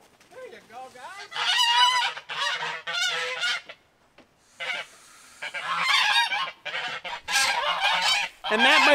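Several free-range geese honk loudly and repeatedly at close range while being herded, their harsh calls arriving in overlapping bursts with brief pauses between.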